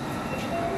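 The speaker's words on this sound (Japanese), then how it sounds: "電車発車です。" A Yokosuka Line / Shonan-Shinjuku Line train departs a Japanese station, rumbling steadily close by, a continuous low mechanical roar with a faint high whine, heard briefly.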